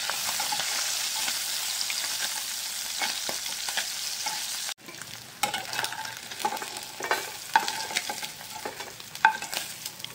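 Singhi fish fry in hot oil in a pan with a constant, close crackling sizzle. Brief scraping and stirring noises break through the frying, and partway through there is a short cut.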